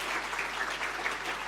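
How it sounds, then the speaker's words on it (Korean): A church congregation at a Sunday worship service applauds to welcome returning visitors, a steady wash of clapping from many hands filling the room at moderate loudness, with no talk over it. "박수로 환영하겠습니다."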